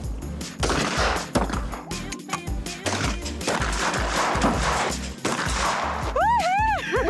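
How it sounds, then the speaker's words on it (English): Shotgun blasts at a clay target shooting range crack out sharply in an irregular series, mixed with outdoor noise and people talking between shots, followed near the end by a warbling electronic tone. "Teresa, I'd like to thank you for giving us an experience of clay target shooting."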